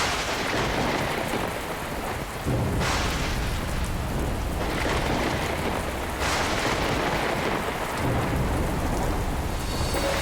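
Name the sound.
heavy rain with thunder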